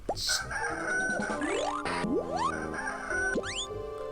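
Cartoonish fowl calls and clucks from a hen in the video game Goblins Quest 3, mixed with sliding whistle-like effects and a steady musical tone, with no talking.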